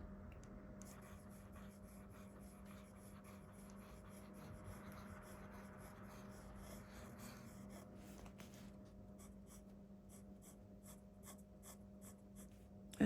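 A titanium-nib Leonardo MZG fountain pen scratches across paper in close, quiet strokes, a faint steady scritching with short pauses and a few sharper taps near the end, with nobody speaking.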